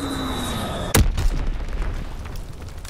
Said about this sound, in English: Sending mortar rounds.